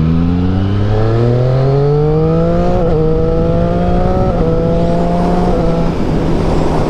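A Yamaha FZ1N motorcycle engine revs hard and climbs in pitch through several gear changes, loud and close, over steady wind and road rush.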